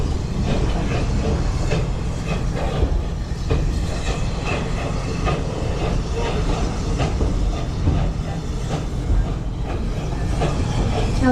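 Safari tour train running on rails, loud continuous rumble with rhythmic wheel clatter and occasional hiss, close and steady throughout.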